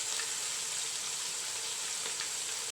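Onions sizzle steadily in hot oil in a pot while koshari is prepared, a dense, continuous frying hiss that stays close and even throughout, with no voices.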